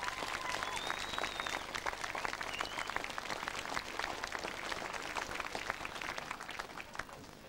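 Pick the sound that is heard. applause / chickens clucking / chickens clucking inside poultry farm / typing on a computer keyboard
applause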